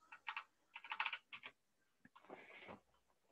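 Quick bursts of keystrokes on a computer keyboard enter a command, with short clustered taps, a brief pause, then a final run of typing, all close and quiet.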